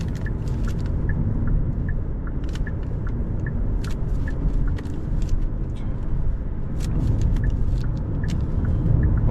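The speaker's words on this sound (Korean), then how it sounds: "현재는 엔진이 구동돼 가지고 좀 더 힘을 받고 가속을 하고 있고요." The 1.6-litre petrol engine of a 2024 Hyundai Avante hybrid runs as the car accelerates, heard from inside the cabin as a steady low rumble with road noise and a regular light ticking on top.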